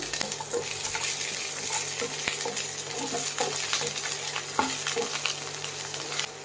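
Onions hit hot oil in a pan and sizzle loudly and steadily, with a constant hiss broken by occasional taps and scrapes of a stirring spoon, heard up close with no talking.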